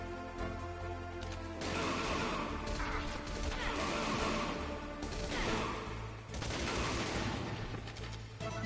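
Gunfire from the PS1 video game Metal Gear Solid: loud bursts of shots and crashing impacts in several waves over a continuous game soundtrack, with no pause between them.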